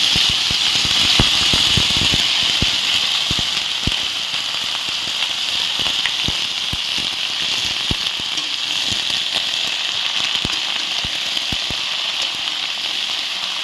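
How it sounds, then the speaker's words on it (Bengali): Vegetables dropped into hot oil tempered with cumin seeds, a continuous crackling sizzle with scattered pops and spatters, close and steady. "হালকা একটু জিরে ফোড়ন দিয়ে সবজিটা দিয়ে দেবো"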